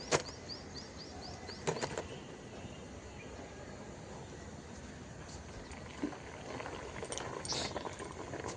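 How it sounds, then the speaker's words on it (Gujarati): Water bubbling at a steady boil in a steamer for khaman, a continuous low rumbling fizz with a few faint clinks, close by and without talk. "પાણી આવું ઉકળતું થઈ જાય ને પછી આપણે ખમણ બાફવા માટે મૂકવાના"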